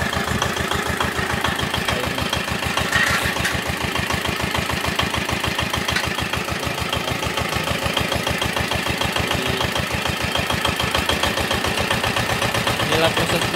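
A bore well drilling machine engine runs steadily close by in a dry-season village, a fast rhythmic mid-pitched chugging that never breaks, with a faint voice in the background.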